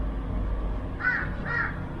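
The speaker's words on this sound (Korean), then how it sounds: "저 까마귀가요" A crow caws twice outdoors, two short raspy calls about half a second apart, moderately distant over a low background rumble.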